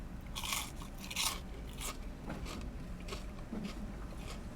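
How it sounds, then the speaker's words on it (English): Close, loud crunches as a crisp onion ring is bitten and chewed, several sharp crackling bites in a row with no talking. "Well, let's try one of these onion rings."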